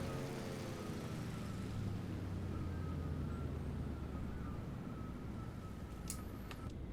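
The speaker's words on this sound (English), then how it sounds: "Very quiet when the engine's not under load." A DHC-2 Beaver airplane engine idles in flight in the Microsoft Flight Simulator 2020 game: a steady, low drone throughout with a soft whooshing wash over it, fairly quiet and even, with no voices.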